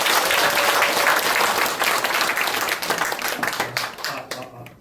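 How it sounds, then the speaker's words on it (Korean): Dense, sustained audience applause fills a community meeting hall at a local election review forum as a lawmaker is welcomed to the podium, holding steady before thinning toward the end. "큰 박수로 맞이해 주시기 바랍니다."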